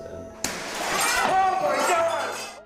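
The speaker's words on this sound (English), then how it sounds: "The sound of breaking glass startled them as the window suddenly shattered." A farmhouse window shattering in an abandoned house, a sudden sharp crash followed by a couple of seconds of tinkling, scattering glass, with a voice talking over it.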